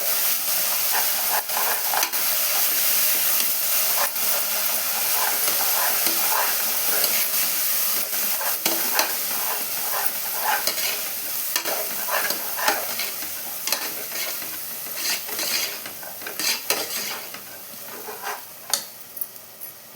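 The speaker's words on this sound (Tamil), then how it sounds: "நல்லா கலந்து விட்டுக்கலாம்." Ginger garlic paste fries in a pan for mutton biryani, a continuous close sizzle and hiss broken by scraping, clattering strokes of a spoon stirring it around, growing busier toward the end.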